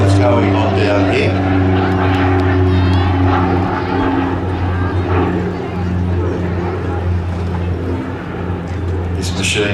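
A North American Rockwell OV-10 Bronco twin-turboprop flies at the Midlands Air Festival, its steady, droning propeller hum loud and close throughout while an announcer talks over the air show public address.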